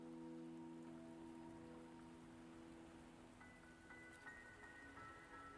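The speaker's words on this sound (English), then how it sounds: "the rain won't last much longer" Steady rain falls in a video game scene, a soft continuous patter heard alone beneath faint tonal game music.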